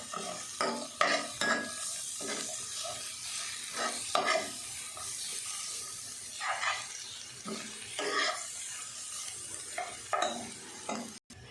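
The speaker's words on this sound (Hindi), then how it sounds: "प्याज को अदरक लहसुन के साथ हमने 1 से 2 मिनट फ्राई कर लिया है।" Chopped onion fries with ginger and garlic in a pan for a cauliflower paratha filling, giving a soft, steady sizzle. A spoon scrapes and stirs against the pan in repeated strokes over the sizzle.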